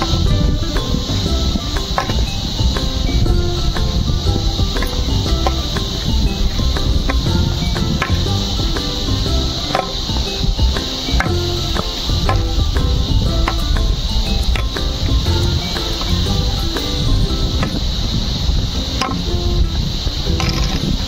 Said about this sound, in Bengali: আর ঝিঝি পোকার ডাকটা শুনুন।